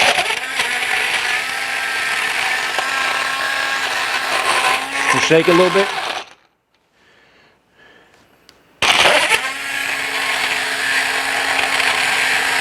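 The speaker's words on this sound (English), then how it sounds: "I want to know that this blender will actually blend the ice if need be" A portable USB rechargeable personal blender crushes ice with a loud, steady whirring buzz for about six seconds, stops into near silence, then starts again at the same strength; a person talks over the motor.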